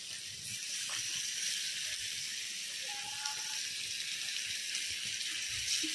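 Fish laid out in a hot pan give off a steady, bright sizzle and hiss that holds at an even level throughout, with small pops and faint clinks beneath it.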